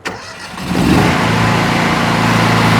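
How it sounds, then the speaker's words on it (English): PowerStream 3500 skid pressure washer engine started by remote: a quick starter crank, then the motor catches and settles into a loud, steady running drone close by, with no voices. "Pressure washer on, pressure washer off."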